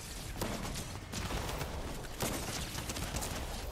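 A DMR rifle fires in a Fortnite-style Zone Wars match: several sharp, clustered shots crack out over constant game background noise, moderately loud and near.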